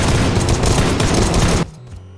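Dense, loud burst of automatic gunfire in the mobile battle royale game Knives Out, firing continuously for about a second and a half before cutting off abruptly into a low residual rumble.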